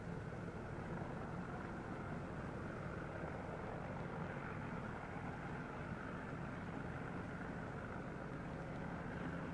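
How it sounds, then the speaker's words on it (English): A training airplane taking off, a steady droning engine and propeller roar held at a moderate distance, fairly faint and unbroken, with no voices. "And now comes the big thrill, the first takeoff."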